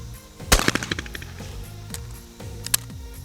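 A shotgun fires at a low house clay target during skeet shooting practice; one loud sharp blast echoes across the field, followed by other distant pops and reports from the range.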